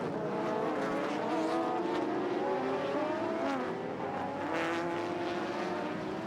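Toyota Supras and Honda NSXs race in the 1999 JGTC series, with loud engines screaming through rising and falling gear changes. Several cars overlap up close and then fade as they pass, with no pause in the noise.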